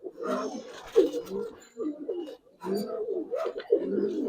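Giribaz pigeons give deep, rolling coos in several close bursts, with short pauses between them, fairly clear and near.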